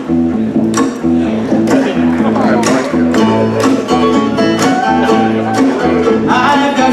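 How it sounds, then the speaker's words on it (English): A bluegrass band plays a Motown song with banjo, strummed strings and a walking bass line in a steady, full, loud groove, with singing woven through the music. "combine two of our favorite American musical genres, the bluegrass sound of Roseanne, Kentucky, and the Motown sound of Detroit"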